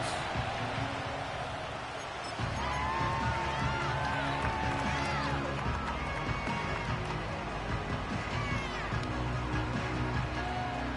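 Stadium crowd noise in an EA Sports American football video game, a broad roar of spectators that swells after a quieter start and holds steady, with a commentator talking over it.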